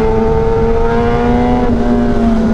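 A stage 2 tuned BMW S1000RR sport motorcycle holds a wheelie, its engine screaming at a steady high rev, loud and close throughout with a strong whining tone.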